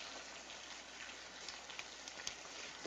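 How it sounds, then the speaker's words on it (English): Rain falls steadily in a dense, even hiss, moderately faint throughout, with a few tiny drip ticks and no voices. "Wait till this rain lets up."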